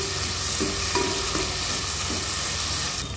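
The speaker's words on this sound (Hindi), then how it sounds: "देखिए, इस तरीके से भून लीजिए टमाटरों को।" Tomatoes frying on a high flame in a pan for leftover-rice fried rice, a steady close sizzle with a few soft stirring scrapes throughout and no talking.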